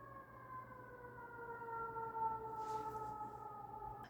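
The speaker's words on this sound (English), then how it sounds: "the sirens have been almost non-stop" Emergency sirens wail outside, distant and fairly faint, a steady sustained tone drifting slowly in pitch for several seconds with no talk over it.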